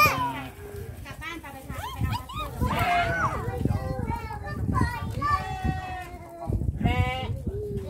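Goats bleat repeatedly while being hand-fed, with nearby voices of adults and children talking over and between the calls.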